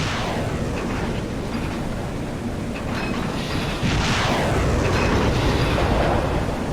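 Ship weapons firing and detonating during a naval battle in the warship game Sea Power, a dense, loud, continuous roar of blasts and rumbling that swells slightly after the midpoint, with no talking.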